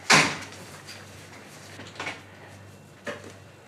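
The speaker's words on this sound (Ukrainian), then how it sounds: "Так, все, зачиняйте двері" A door shuts with a sharp, close thud at the start, followed by two smaller knocks or latch clicks later on, in a quiet room with no one speaking.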